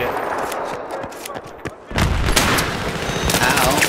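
Battlefield 3 multiplayer gunfire on the Seine Crossing map on PS3, with dense bursts of rifle and machine-gun fire that swell into heavy sustained shooting midway. Players talk over the din.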